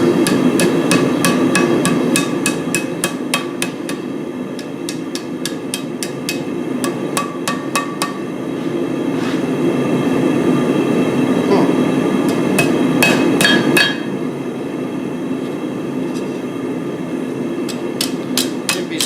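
Metal is hammered to bend it over while making a small garden tool, with many sharp ringing blows in quick runs and irregular clusters over a steady background hum, loud and close, no speech.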